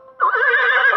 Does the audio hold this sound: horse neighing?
yes